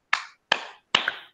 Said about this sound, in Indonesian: Bapak dan Ibu tepuk tangan 3 kali